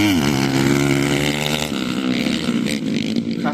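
Off-road motorcycles, a Hero Impulse and an Xpulse 200, engines droning steadily and loudly with shifting pitch as they ride close by, with no speech over them.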